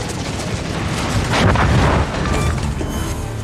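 Naval gunfire and explosions in the warship game Indomitable, a dense rumbling barrage of booms with a louder swell of blasts partway through, continuous and close.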